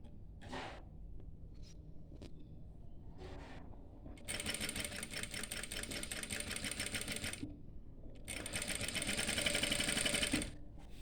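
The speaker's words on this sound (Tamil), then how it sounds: "பொறுமையாக பெடல் போட்டு ஸ்டிச் பண்ணுங்கள்." A pedal-driven sewing machine stitches a petticoat in two short faint runs, then two longer bursts of rapid, even clatter.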